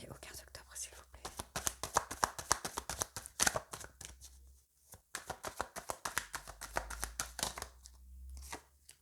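Tarot cards shuffled for a love reading; quick, close riffling and card slaps in irregular bursts, quiet overall, with whispered French speech over parts of it.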